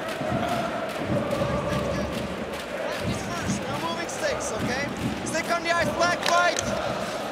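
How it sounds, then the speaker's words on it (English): A lively ice hockey arena crowd at the Spengler Cup in Davos roars and chants continuously, dense and loud, with bursts of whistles and cheers rising near the end while commentators talk over it. "the atmosphere in here, listen to this crowd"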